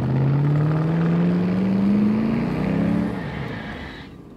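A car engine strains steadily uphill, its low drone rising slowly in pitch and then dropping away near the end, loud and close with no talk over it.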